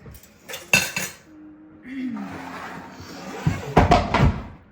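Ricotta cake batter is scraped from a bowl into a prepared pan, with close metal utensil clinks and knocks, a smeary scraping stretch, then a cluster of louder clatters.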